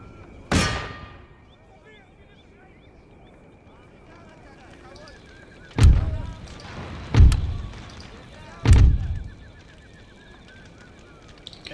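Artillery firing in the strategy game Empire: Total War, four heavy cannon booms spaced seconds apart with distant rumble and faint battle noise between them.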